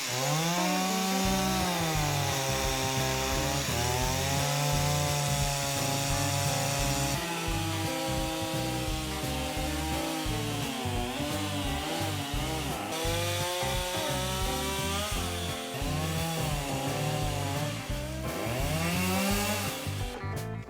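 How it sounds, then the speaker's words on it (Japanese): A chainsaw cuts into a huge 300 kg zelkova (keyaki) log, its engine droning loud and close with the pitch rising and falling steadily as the bar bites into the wood, unbroken for the whole stretch. "チェーンソーのバーの跳ね返り、それだけを注意して切っていきます"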